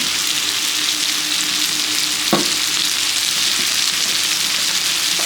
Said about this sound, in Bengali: এটা আলুটা প্রায় অল্প অল্প ভাজা হয়ে গেছে